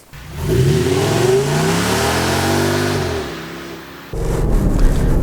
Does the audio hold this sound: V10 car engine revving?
yes